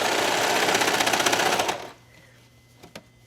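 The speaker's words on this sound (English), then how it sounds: "So let's go to the serger." A serger overlock machine runs steadily while stitching knit fabric for a ruffled one-armed top, a loud rapid mechanical whir for under two seconds that stops abruptly, followed by faint handling clicks.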